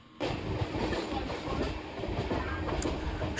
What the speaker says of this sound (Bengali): চারিপাশের মনোমুগ্ধকর অপরূপ সুন্দর প্রকৃতির মধ্যে দিয়ে আমাদের ট্রেনটি ছুটে চলেছে